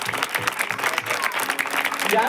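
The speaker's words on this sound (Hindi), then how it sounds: "आपकी तालियां इन्हें आगे बढ़ा देंगी" Audience applause at a prayer meeting, a steady patter of clapping hands with a light crowd murmur that keeps going evenly to the end.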